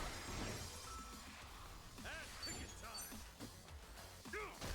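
Enemies struck with bar stools in Like a Dragon: Infinite Wealth, several sharp crashing smacks spread across the moment, mixed with game voices and effects.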